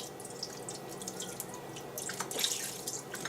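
Kitchen tap water running while potatoes are washed, a quiet, continuous trickle with scattered drips and splashes that grow slightly louder toward the end.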